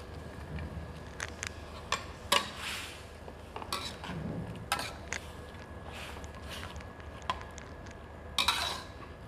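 Pork, carrot, baby corn and Chinese kale are stir-fried for wide rice noodles, with repeated clinks and scrapes of a metal utensil against the pan over a constant frying hiss, close and fairly loud, with no speech.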